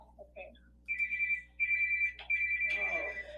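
A phone ringtone plays as a series of bright repeating electronic tone bursts, clear and fairly loud, with brief voices at the start.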